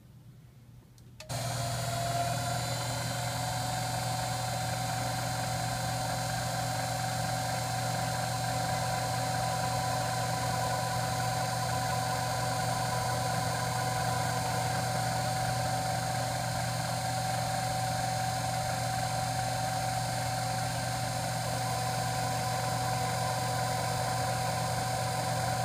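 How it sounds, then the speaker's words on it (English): A lathe starts up and runs steadily in reverse while lightly cutting a chamfer on the back of a bass guitar knob, a constant humming whine with a tonal motor drone, loud and close, with no talking. "We'll run the lathe in reverse and just do it on the backside."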